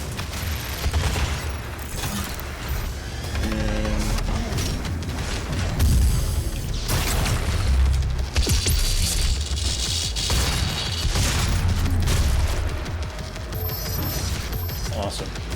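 Grenade blasts boom and rumble through dense Doom combat, mixed with mechanical clatter and heavy gunfire under a steady roar of game noise, while a person talks over the action.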